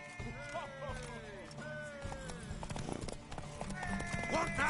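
A horse in the video game The Witcher 3 clip-clops its hooves and whinnies, heard close over game music, with people talking at the same time.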